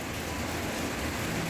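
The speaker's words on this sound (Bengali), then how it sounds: "ঝিরঝির করে বৃষ্টি পড়ছে, একটু আগে একটু জোরেই পড়ছিল।" Light drizzle falls outdoors in the evening near a mango tree, a soft, even, steady hiss that stays faint and unchanging throughout without other distinct sounds.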